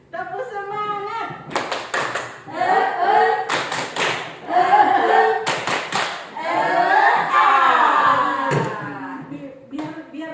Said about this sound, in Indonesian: Tepuk semangat dulu deh, Bapak Ibu.